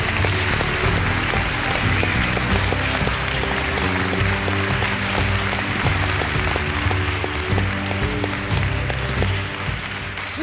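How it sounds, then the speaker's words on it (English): Audience applause at an event honoring songwriters, a continuous dense patter of clapping heard under music playing at the same time. "will you help us give them a very, very warm round of applause?"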